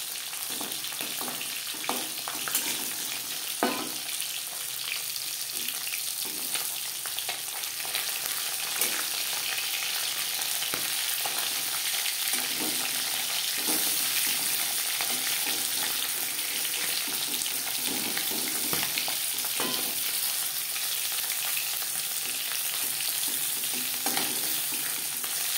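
Fish and banana stem fry in a pan, giving a steady hissing sizzle throughout with scattered small pops and occasional spatula taps, heard close with no talk.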